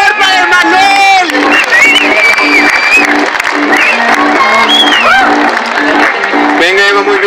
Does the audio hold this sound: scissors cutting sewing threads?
no